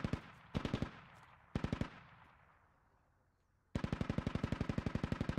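Automatic gunfire in the military video game Squad: several sharp bursts of rapid rattling shots, the last a long sustained burst, separated by a fading echoing tail.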